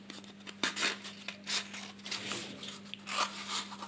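Scissors snipping around the wide rim of a paper cup, a close series of crisp rasping cuts and rustles in irregular bursts, with no talking.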